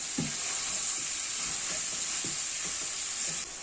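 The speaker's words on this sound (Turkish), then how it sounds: "Evet soğanlarımız, biberlerimiz de güzelce sotelendi." Onions and peppers sauté in a pan with a steady, close frying sizzle and hiss, with soft stirring clinks scattered through it.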